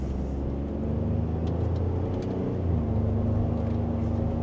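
A 2025 Ford F-150 Deadwood Edition pickup in sport mode pulling away in second gear, its engine a low steady drone with a gentle rise in pitch as it gently accelerates, heard from inside the cab.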